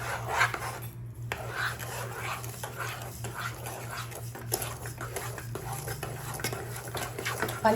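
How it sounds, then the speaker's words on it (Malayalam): Cardamom powder is stirred into kesari in a pan, a steady scraping and rubbing of a spoon against the metal that runs continuously and close without any talk. "എന്നിട്ടൊന്ന് നന്നായിട്ട് ഇളക്കി കൊടുക്കാം."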